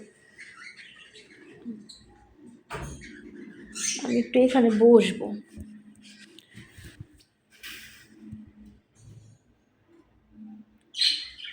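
Caged pet birds chirp and squawk indoors in short bursts, one louder flurry in the middle, mixed with a person talking nearby.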